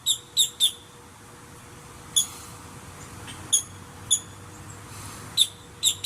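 Outdoor birdsong with a crow and a robin among the birds: sharp, high chirps come in small clusters and single notes, scattered irregularly over a faint steady background hum.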